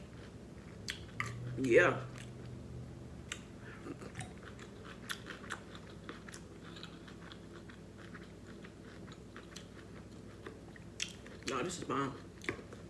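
Close chewing and biting of sticky shrimp at a mukbang, soft crunchy, wet bites in an irregular rhythm, louder bursts near the start and end, with brief talk mixed in.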